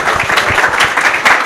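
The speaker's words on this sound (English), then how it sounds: "Give him a standing ovation for that. Keep clapping." Audience applause with dense, sustained clapping that stays loud and steady throughout, filling the room without pause.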